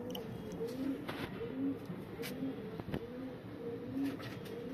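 Low, soft pigeon cooing repeats steadily in a bird-keeping setting, fairly quiet and continuous, with a faint background hiss and scattered clicks.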